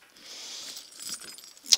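Keys and rings jangling as they are packed into a travel rucksack, a light metallic rattle that builds briefly, then ends in a sharp close clink, with faint background hum.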